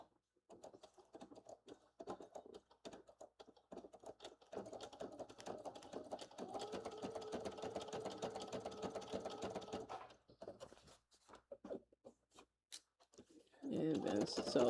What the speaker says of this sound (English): And then sew the rest of the pocket up.